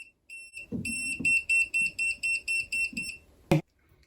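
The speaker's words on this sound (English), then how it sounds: "Flashing red light, and you have the sound, and that tells you that the circuit is on." Rapid high-pitched electronic beeping from a TACKLIFE AC voltage detector on a live circuit, pulsing steadily for about three seconds alongside a low buzzing hum, ending with a sharp click.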